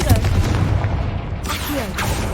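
A Confringo fire spell detonates in a video game, giving a loud booming blast with a rough rumbling tail over steady game ambience.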